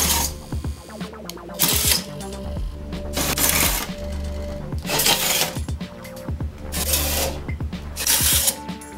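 A workshop dust collector switched by Arduino automation runs as a loud, steady machine roar, with rhythmic surges and clattering mechanical bursts roughly every second or two.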